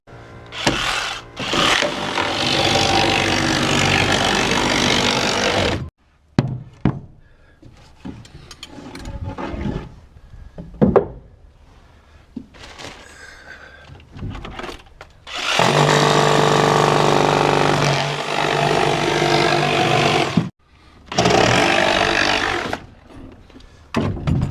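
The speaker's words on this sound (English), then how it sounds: "I'm going to cut out this bottom plywood" A power saw cuts out bottom plywood flooring in a mother-in-law suite build, loud whining bursts of several seconds each, separated by quieter stretches of knocking and handling, close by.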